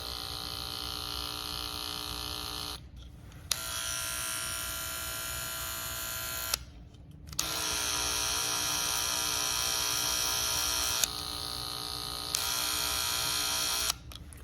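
An Oster cordless Fast Feed hair clipper runs with a steady high electric buzz in several long stretches, switched off and on a few times with brief clicks between, close and loud with no speech.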